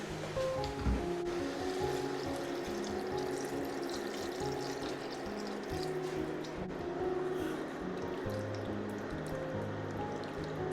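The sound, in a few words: pouring cold water over chicken paprikash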